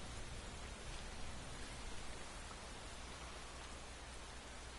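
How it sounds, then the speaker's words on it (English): Heavy rain pours steadily in a survival video game, a faint, even, unbroken hiss with no distinct drops or thunder. "it is pouring rain, as you would expect, because that's how things go"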